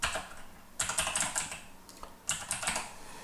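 Quick bursts of clicky typing on a computer keyboard, pausing briefly between flurries, close and fairly quiet.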